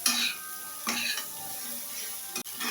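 Spices with turmeric, cumin and coriander are sautéed in a pan, giving a soft close sizzle with scraping spatula strokes and a few clinks of metal on the pan.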